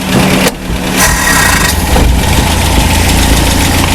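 Engine of a 1968 Commer 2500 van running without choke, a loud, close, steady idle rumble with a brief dip early on before settling into an even drone.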